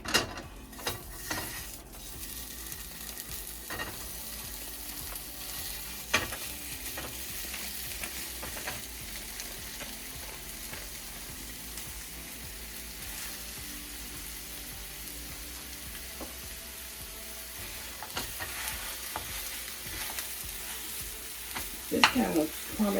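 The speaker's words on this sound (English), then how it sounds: "I'm gonna go ahead and cook them first." Sausage fries in a hot pan for a cheese dip, giving a steady, crackling sizzle throughout, punctuated by occasional clacks and scrapes as it is stirred and broken up.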